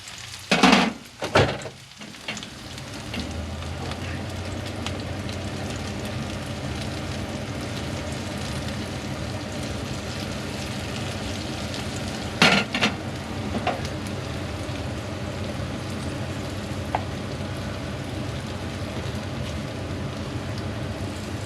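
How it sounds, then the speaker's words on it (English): Japanese gyoza fry in a pan with a steady, continuous sizzle like rain that holds throughout, broken by a few louder crackles and clatters near the start and midway. "just fry those up till they get nice and golden."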